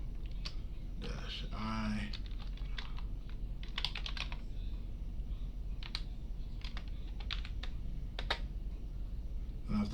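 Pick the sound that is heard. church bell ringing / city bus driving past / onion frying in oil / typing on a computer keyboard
typing on a computer keyboard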